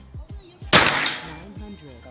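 A single sharp report from a Bocap Escobar PCP air rifle firing a heavy slug, a loud close crack that fades quickly, with brief speech before and after it.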